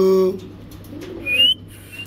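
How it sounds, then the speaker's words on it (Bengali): Pet lovebirds and sun conures call in short bursts: a tonal note at the start, then a thin rising whistle near the middle, close by with no talking. "লাভবার্ড পাখি আছে, সানক্লোড আছে।"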